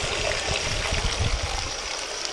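Water runs from a hose beside a creek, a steady splashing rush with some low gurgling bursts, moderately loud and continuous, no speech.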